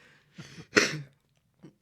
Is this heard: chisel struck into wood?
no